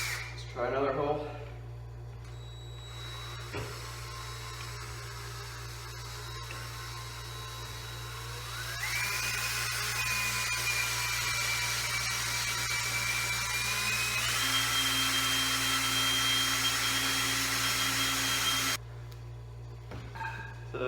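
A power drill bores into wood straight along the grain while a camera mount is built, its whine rising in pitch and loudening as it bites, running steadily for around ten seconds before stopping.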